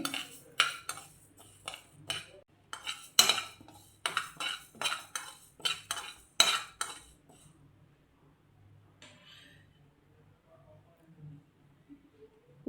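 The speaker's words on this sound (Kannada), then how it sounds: "ಒಂದು ಮುಷ್ಟಿಯಾಗುವಷ್ಟು ಉದ್ದಿನಬೇಳೆಯನ್ನು ಹುರ್ಕೋತಾ ಇದ್ದೀನಿ." Urad dal being dry roasted in a pot on a stove, with a spoon scraping and clinking against the metal in quick irregular bursts, loud at first, then sparse and fading, with no talk.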